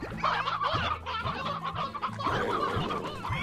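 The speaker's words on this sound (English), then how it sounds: "Right, I've just got ordinary chickens." Ordinary chickens cluck in a video game, with a steady series of short, repeated clucks and throaty calls heard close and clear, without any talking.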